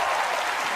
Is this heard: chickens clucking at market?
no